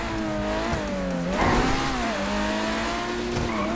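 A Overflod Autarch supercar in GTA 5 Online, its engine droning steadily with a shifting pitch as it accelerates, along with a brief burst of tire noise partway through, heard up close with no talk.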